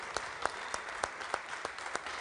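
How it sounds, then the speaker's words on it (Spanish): A church congregation applauds in a brief, quiet round of clapping, with a few sharper claps standing out at regular intervals. "vamos a dar un aplauso a la gente de Lincoln"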